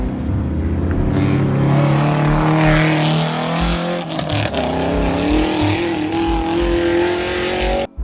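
A powerful V8 Ford Mustang accelerating away from a car meet, engine roaring loudly and climbing in pitch through the gears, with crowd noise faintly beneath.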